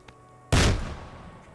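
A black-powder handgun fired in Kingdom Come: Deliverance 2, heard as a single loud, close boom with a heavy low thump that decays over about a second.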